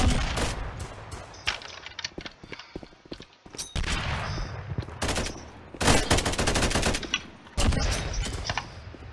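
Guns fire in a Roblox shooting game, with repeated bursts of rapid gunfire and sharp single shots in irregular clusters, loud and close with brief gaps.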